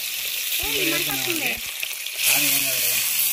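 Onions sizzle steadily in a pan over a wood-fired stove as a fish curry begins, with a person talking over the frying and a louder burst of sizzling near the end.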